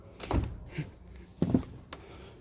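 The front door of a 2022 Carthago C Compact Line i141LE motorhome pushed shut, a couple of soft muffled thunks and latch clicks close by, with faint handling noise after.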